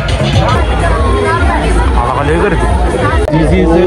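Dense crowd hubbub at a village fair (urus), a loud, continuous babble of many overlapping voices close by with no single speaker standing out.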